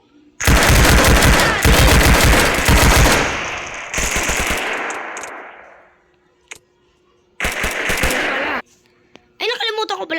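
Loud bursts of automatic gunfire from a video game, long rattling volleys that fade out, then a shorter burst after a pause, with a brief voice at the end.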